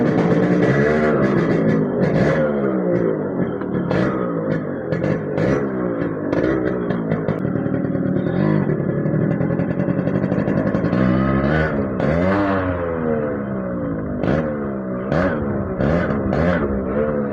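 Yamaha RX100 or Rajdoot two-stroke motorcycle engine revving hard on the street, loud and close, with repeated rising and falling throttle blips and a rattly, crackling exhaust note throughout.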